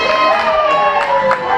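A pro wrestling crowd howling back at a wrestler, a loud sustained wavering chorus of voices rising and falling together in an arena for a second or two.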